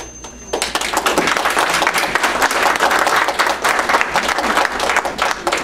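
Audience applause at a school district board of trustees meeting, steady dense clapping from a crowd that begins after a brief quieter moment and keeps going at full strength throughout.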